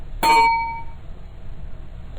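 A single bell or chime strikes once, bright and clear, ringing out with a lingering metallic tone that fades over about a second, followed by quiet room noise.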